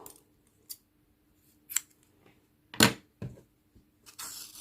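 Scissors snip through crochet yarn in several short, crisp cuts separated by quiet pauses. The cuts are close and fairly faint, with light handling noise at the end and no talking.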